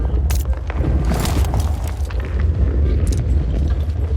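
Explosions in the mobile battle royale game PUBG Mobile, heavy booming blasts and rumbling with sharp bursts layered over continuous game noise.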